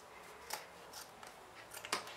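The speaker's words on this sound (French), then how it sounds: "Maintenant, je vais découper l'excédent de zip" Fabric scissors snipping off the excess zipper ends on a sewn fanny bag, a few quick, crisp cuts spaced through the moment, close but faint.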